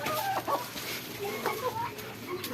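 Pet chickens clucking in short, overlapping calls while pecking at bread slices, a close, busy flock chatter with no speech.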